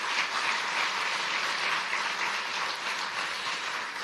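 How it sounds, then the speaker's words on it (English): A crowd applauds steadily at the IBM Research Africa Lab 10th anniversary event at a Catholic university in Kenya, a dense, even wash of many hands clapping throughout, with no talk over it. "please give every single member of the IBM community here a round of applause"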